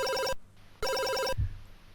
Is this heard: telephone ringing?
yes